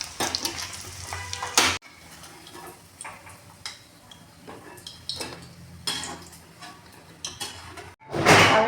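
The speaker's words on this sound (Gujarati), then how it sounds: "થોડા ધીમા ગેસે ફ્રાય કરી લેવાના. ગોલ્ડન થાય" Paneer frying on low gas heat until golden, a quiet sizzle broken by spatula stirs and clinks against the pan, with louder bursts of handling at the start and end.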